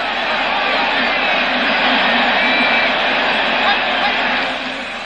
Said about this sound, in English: and this crowd is going mad.